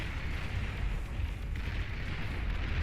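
A real-time strategy battle in Beyond All Reason rumbles with a continuous wash of dense, overlapping explosions and booms at a steady, loud level, with no voices on top.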